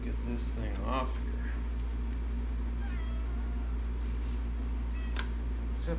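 A cat meows a few times in a workshop where an Oliver Super 88 tractor PTO clutch is being rebuilt, soft and fairly close over a constant low mechanical hum.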